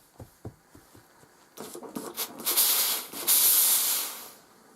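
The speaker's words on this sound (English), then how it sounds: "that is like the Flying Scotsman releasing all the steam" A Laurastar Steamax G2 735 steam generator iron with a soft care soleplate releases steam in strong hissing bursts that build to a loud, sustained blast after a few soft clicks and taps.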